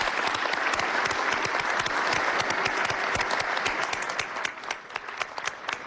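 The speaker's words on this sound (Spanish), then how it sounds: "Uma salva de palmas para o presidente Evo Morales." An audience gives sustained, dense applause for Bolivian President Evo Morales at a conference, steady clapping from many hands that thins slightly toward the end, with no voices over it.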